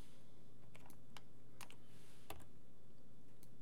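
Computer keyboard keys tap in a sparse series of crisp, close clicks over a low steady hum, with no talking.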